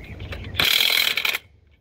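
A cordless half-inch drive tool with a 21 mm deep socket works a lug nut on a 1993 Ford Bronco 5.8. It gives one short, loud burst of ratcheting mechanical clatter that fades into faint shop noise.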